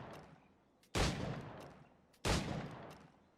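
Two loud gunshots in the video game Assassin's Creed 4 Black Flag, each a sharp blast followed by a long, noisy decaying tail, spaced about a second and a half apart, with no talking.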